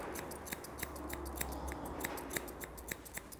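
Steady, close snipping of grooming scissors cutting a Labradoodle's hair, a quick irregular series of crisp metallic clicks over a low constant background hum.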